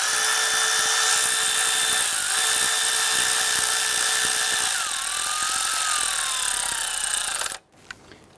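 Power tool tightening the intake manifold bolts on a 1999-2004 Jeep Grand Cherokee 4.7L V8, a loud close whine with steady tones that shift in pitch, then stopping abruptly with a few small clicks.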